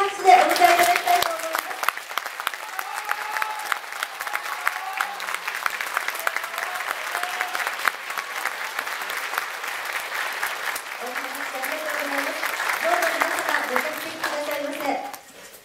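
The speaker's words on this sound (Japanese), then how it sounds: "もう一度大きな拍手でお迎えいただきたいと思います。" Sustained applause from a crowd welcoming the Maebashi Ikuei high school football team, national champions, as the coach and players take the stage at a civic honour ceremony in Maebashi; steady clapping throughout with a few voices underneath.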